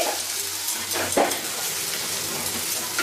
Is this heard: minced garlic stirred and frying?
yes